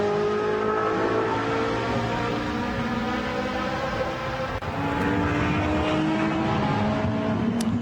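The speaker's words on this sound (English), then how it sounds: "Number 17 Lamborghini from HP Racing International from Coach Mackenzie." Lamborghini GT race car at speed on the Barcelona circuit in a Blancpain GT Sports Club race, its loud, sustained engine note rising in pitch through the gears as it passes close by.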